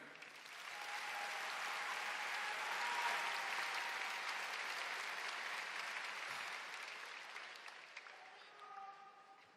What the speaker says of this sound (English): Can I please get a round of applause for everyone here?